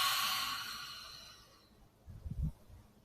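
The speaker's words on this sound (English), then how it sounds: "breathe out" A slow exhale during a guided breathing exercise, a soft airy breath that fades away, followed by a faint low rustle or murmur near the end.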